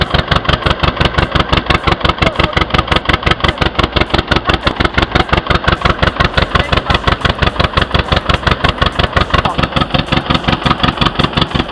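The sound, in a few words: tractor engine running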